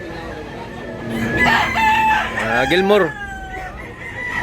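A rooster crows once nearby, loud and clear, its rising-then-falling call standing out over quiet background noise with a brief spoken word.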